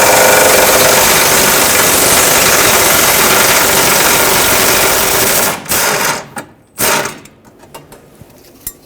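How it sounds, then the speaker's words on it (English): A power tool removing a 13mm bumper bracket bolt on a Ford F-350 whirs steadily at close range for several seconds, then stutters through a few short bursts before stopping. "This one you should be able to get with a power tool."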